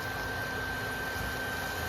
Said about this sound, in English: I hope you can hear this over this vacuum cleaner.